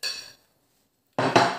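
Spices stirred in a pan for a vegetable and grilled chicken tray bake give a short metallic scrape of utensil against pan, then a silent pause, then two louder close scraping clinks.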